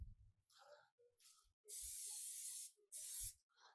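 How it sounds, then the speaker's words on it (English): Cooking spray hisses onto a small pan in two distinct bursts, a long spray followed by a shorter one, close and clear amid quiet kitchen clatter. "Spray our little pan that we have"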